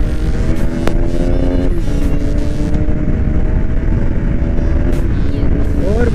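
A Bajaj Pulsar RS200 engine hums and surges loudly during a ride, pitch shifting with throttle over heavy wind rush, while someone talks briefly over it.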